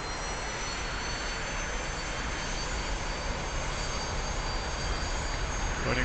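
Jet engine of a T-45 trainer in the DCS flight simulator, throttle pushed to full, roaring as a loud, steady broadband rush with a high whine layered on top, constant and unbroken.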